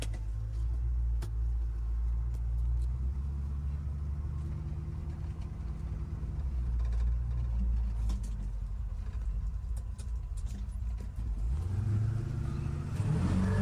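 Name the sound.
1949 Chevy 3100 truck with 350 V8 driving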